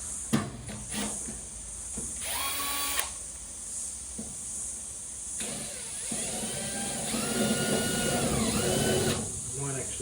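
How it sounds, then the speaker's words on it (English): A power drill whirs in several bursts while drilling a pilot hole, spinning up and slowing with a motor whine, close by, while a person talks intermittently. "Just pre-drill that one, I think, just so I don't get that wandering."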